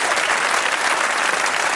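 A studio audience on a quiz show breaks into loud, sustained applause, a dense, even wash of clapping close to the microphone with no gaps.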